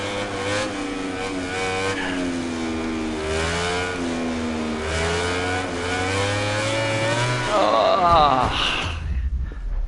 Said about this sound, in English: This bike just goes into a wheelie, you see,